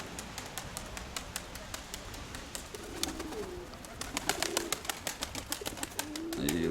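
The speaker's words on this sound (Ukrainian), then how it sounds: "вона райдужна голубка" Pigeons at a loft, low soft cooing now and then beneath a busy run of sharp clicks and taps, all fairly faint and close.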